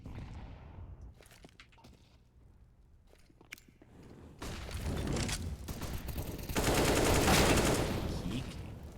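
AK-47 rifles firing in a Counter-Strike match, a few sharp scattered shots early on, then a dense louder burst of rapid gunfire and game noise building toward the end.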